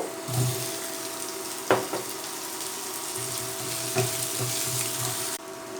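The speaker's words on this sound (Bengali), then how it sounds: "এবার আলুগুলোকে আমি হালকা ভাজা করে নিচ্ছি" Potatoes fry lightly in a pan for a broccoli sabji, giving a steady soft sizzle with a few sharp clatters of a spatula or utensil, near and without talk.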